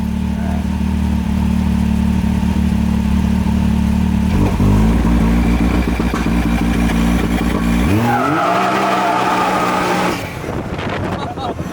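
Can-Am Maverick XRC side-by-side launching hard under launch control in Race plus mode, engine roaring steadily then tires skidding and squealing as it pulls away, loud and close with voices in the background.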